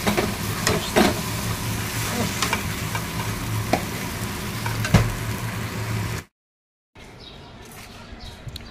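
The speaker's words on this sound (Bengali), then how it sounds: "পটল চিংড়ি চিংড়ি মাছ দিয়ে ভেজে নিচ্ছি" Pointed gourd frying with shrimp crackles and sizzles close by, with sharp pops and spoon taps over a steady hiss; the sound cuts out briefly near the end, then quieter frying resumes.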